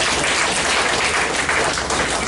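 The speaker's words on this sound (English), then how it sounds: "let's give them one more round of applause" A loud, continuous round of applause fills a meeting room, with thick, unbroken clapping from a full audience and no talking over it.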